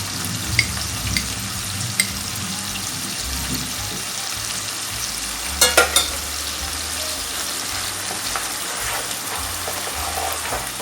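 Minced meat and tomato paste fry in a pan with a steady, close sizzle, broken by a few brief clinks and stirring sounds and a short clatter near the middle.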